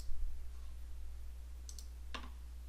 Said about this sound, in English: Go ahead and click save.